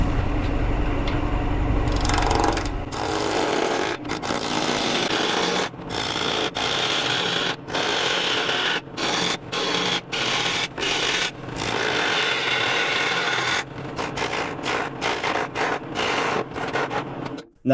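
Wood turns on a lathe as a tool cuts into the spinning blank, making a steady scraping, rasping whir broken by frequent brief pauses as the cutter lifts off. It is fairly loud and close, with no talking.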